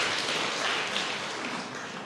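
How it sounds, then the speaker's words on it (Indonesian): A church congregation applauding loudly during a sermon, sustained dense clapping filling the hall for a couple of seconds. "Berikan tepuk tangan yang meriah."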